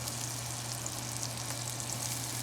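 Onions sauteing in butter give a steady, even sizzle close by, constant and faint with a low hum underneath and no talk.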